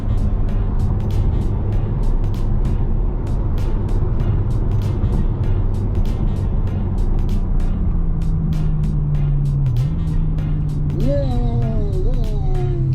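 A 2016 Ferrari F12 engine drones steadily from inside the cabin, with quick dual-clutch gear shifts dropping and rising in pitch near the end, under occasional talk and ticking sounds.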